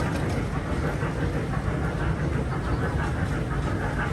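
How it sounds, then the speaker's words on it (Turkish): A small ride train in a park rumbles along steadily, with a continuous low mechanical rolling noise and faint rattling throughout, close by and fairly loud. "Tren çok hızlı."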